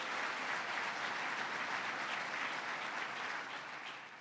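Sustained applause from a large audience at a state government address, honouring a guest singer, steady and dense throughout before tapering slightly at the end.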